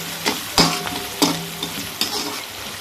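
Whole spices tempering in hot oil for a potato curry, with a steady close sizzle broken by several sharp spoon scrapes and stirs against the pan.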